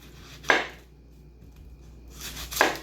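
Two sharp knife cuts through red onions on a kitchen board, about two seconds apart, close and crisp against near silence.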